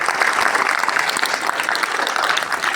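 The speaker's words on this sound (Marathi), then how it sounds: "एकदा जोरदार टाळ्या होऊन जाऊ." A crowd claps at an eco-friendly Holi celebration at Mahatma Phule English School, a loud, steady burst of many hands applauding together without a break.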